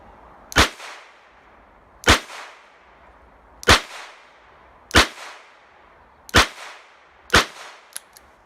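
A Charter Arms Pathfinder .22 LR revolver fired double action at an outdoor range, six sharp, loud cracks spaced about one to one and a half seconds apart, each with a short fading tail, and no talking.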